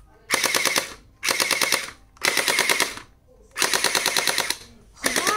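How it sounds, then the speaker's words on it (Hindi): Toy gun fitted with a silencer fires in four loud rapid bursts, each a dense rattle of shots lasting under a second, separated by short pauses, with a fifth burst starting at the end; no talking. "अब देखते हैं ये गन मतलब आवाज आती है इसमें या नहीं।"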